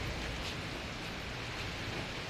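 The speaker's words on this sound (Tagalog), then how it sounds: "Malakas pa yung ulan." Steady, dense hiss of heavy typhoon rain pouring down, continuous and fairly loud with no pauses or voices.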